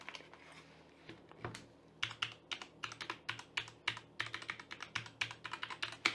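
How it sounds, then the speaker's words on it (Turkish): Close, quiet typing on a Blitzwolf BW-KB1 wireless mechanical RGB keyboard: a sparse few keystrokes, then a steady run of rapid clicks. "Tuşlar mekanik. Şuradan görebilirsiniz ne kadar mekanik olduğunu."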